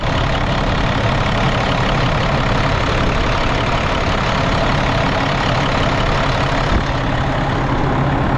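A freshly repaired truck diesel engine runs at a steady idle, a loud, close, unbroken rumble with no speech over it.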